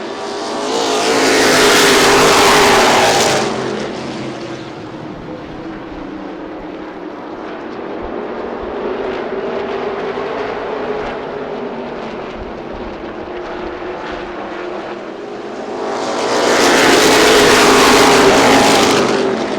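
Street stock race cars roar past in a dirt-track heat race, engines loud and close at the start and end with a steadier distant drone of the pack circling in between.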